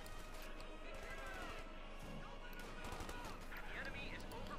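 Rapid machine gun bursts rattle through a Company of Heroes 2 battle, layered over continuous wartime game noise and other scattered gunfire at low level.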